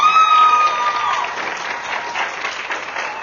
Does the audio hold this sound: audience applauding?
yes